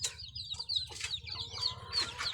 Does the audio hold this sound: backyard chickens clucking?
yes